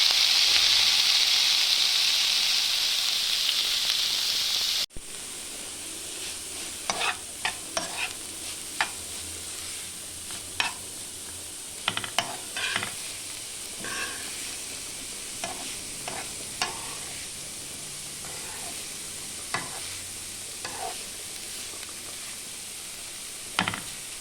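Chopped vegetables for thoran tossed into a hot pan, a loud hiss at first that settles into a steady sizzle with scattered sharp clicks and scrapes of stirring, close and without speech.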